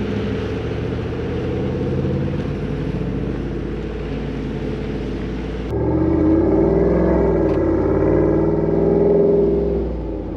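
A Jeep Wrangler 392 driving on a desert road toward Big Bear, its engine giving a steady, loud, low rumble that shifts in tone partway through as the cabin sound changes, with no one talking.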